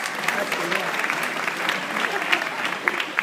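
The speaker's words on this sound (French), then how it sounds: "Allez, on applaudit monsieur." A crowd at an entrepreneurs' talk applauds a man in the audience with a brief, steady burst of clapping, close and fairly loud, with a few sharper individual claps.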